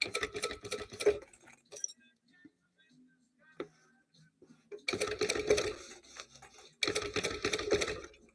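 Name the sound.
sewing machine stitching fabric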